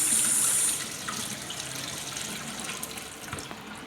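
Water pours steadily from a pot into a sink as cooking liquid is drained off chicken for a honey chicken sauce, a loud initial gush settling into a continuous splashing stream.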